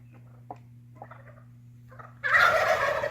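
Turkeys near a workshop bench give a few faint calls, then break into a loud, close burst of gobbling that carries on to the end. A low steady hum runs underneath.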